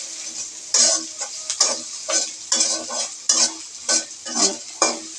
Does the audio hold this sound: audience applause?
no